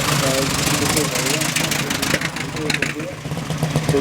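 An old engine of a white Mercedes vintage racing car, 7.24 litre, rumbles and knocks as it passes nearby at a sprint race day, its roar swelling and fading, with someone talking over it.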